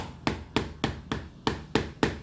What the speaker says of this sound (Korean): 저는 요 망치로 치겠습니다.